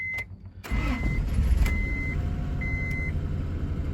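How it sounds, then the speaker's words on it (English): A 1997 Honda Accord LX with a misfire fault and the check engine light on idles steadily and close by. The low engine hum continues throughout, and several short electronic beeps sound over it. "It's idling though, which it wasn't doing before."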